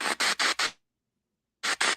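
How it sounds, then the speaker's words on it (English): A paranormal spirit box scans through radio frequencies, throwing out loud bursts of harsh white-noise static in quick chopped pulses, then it cuts to silence and the bursts return. "It's white noise."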